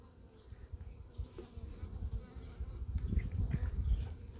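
Honey bees buzzing steadily during a honey harvest, a dense low hum close by that swells slightly louder toward the end, with no talk over it.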